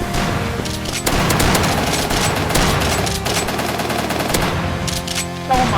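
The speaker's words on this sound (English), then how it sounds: "I heard you reloading." Dense gunfire from a multiplayer first-person shooter built in Godot fills the clip, with rapid overlapping shots and bursts that run almost continuously, loud and close, and no talking.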